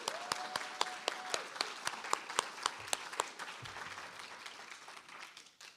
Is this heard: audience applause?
yes